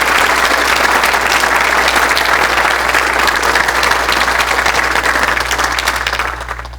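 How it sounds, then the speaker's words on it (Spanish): Audience applause at a tribute ceremony honoring a senior teacher, a steady wash of many hands clapping that holds evenly for several seconds, then begins to fade at the end. "aplauso a Cecilia."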